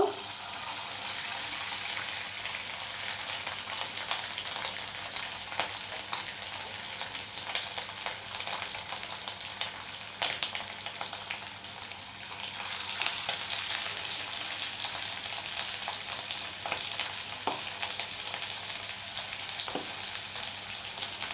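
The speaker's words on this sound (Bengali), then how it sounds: "আমি আঁচটা আমি কমিয়ে দেব তো আমি এক এক করে ভেজে নেব" Chicken pieces for capsicum chili chicken fry one by one in hot oil in a kadai over lowered heat, giving a continuous crackling sizzle with scattered pops and light utensil clicks throughout.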